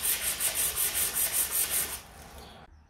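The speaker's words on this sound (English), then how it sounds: "I'm just going to give it all a rub down in the same direction" Rhythmic back-and-forth rubbing of 240 grit wet and dry paper on a brass fitting, about nine even strokes in a steady rhythm, close and fairly loud, then fading to a softer scrape before stopping.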